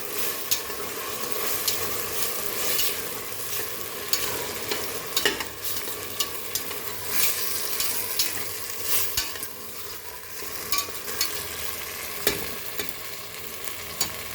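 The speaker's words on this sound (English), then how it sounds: "Fry this all very nicely." Achari chicken curry frying in a pan makes a continuous sizzle, broken by repeated scraping and clattering strokes of a spoon stirring the pieces. The sound is close and busy with no voices.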